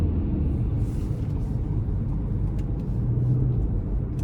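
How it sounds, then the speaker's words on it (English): Engine of a 2025 Ford Escape plug-in hybrid with an eCVT, running in sport mode, hums in a steady low rumble heard from inside the cabin, with road noise and no talk. "in the sport mode, it tends to rev a little hotter, even with the ECVT"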